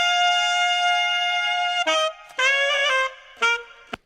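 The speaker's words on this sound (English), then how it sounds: "the interesting thing about this saxophone solo is" Clean saxophone solo in a studio production, with a long sustained note for nearly two seconds and then short phrased notes separated by brief gaps, loud, close and alone.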